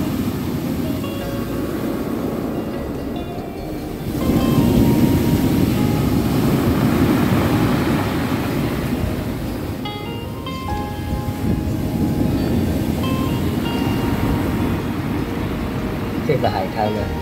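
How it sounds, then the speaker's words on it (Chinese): Surf washes in at Mambo Beach in Hualien, a broad, steady rush of waves with a louder surge partway through, under a person speaking. "这里是花莲的秘境，曼波海滩"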